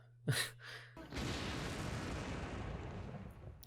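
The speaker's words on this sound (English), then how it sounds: "Large explosion. Whoa! Very large explosion." A large explosion in a Doctor Who episode, a sharp blast followed by a long, loud rumbling roar that stays steady for several seconds, heard faintly from the show's playback with no talking.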